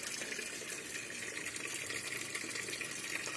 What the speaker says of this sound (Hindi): ये जो पानी रोटेशन हो रही है इसमें, ये छोटी सी मटकी से आ रही है